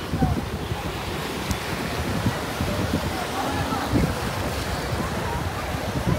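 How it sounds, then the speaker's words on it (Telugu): Sea waves wash onto the sandy shore at Mahabalipuram in a constant, loud surf wash mixed with heavy wind buffeting the microphone, and a voice occasionally heard beneath. "ఇటు సైడ్ అలలు వచ్చేసి ఇట్లా అన్నమాట. మొత్తం శాండ్ అంతా కొట్టుకుని పోతుంది చూడండి"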